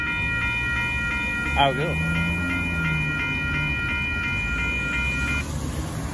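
An Amtrak Texas Eagle passenger train and a CSX tanker train pass at Dittmar Road in Austin, Texas, with a steady rumble of rolling cars and a sustained multi-tone horn. A person speaks briefly over the noise.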